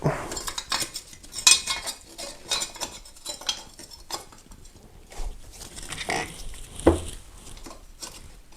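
Metal bolts are handled and fitted onto the timing belt cover of a 1.6L VW Bora engine, a series of close, irregular clinks, taps and scrapes with short gaps between them and no talk.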